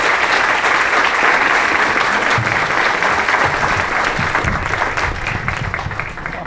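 An audience applauds to welcome USDA Under Secretary Jennifer Lester Moffitt at an opening-remarks event, a sustained burst of clapping from a crowd that starts full and tapers slightly toward the end.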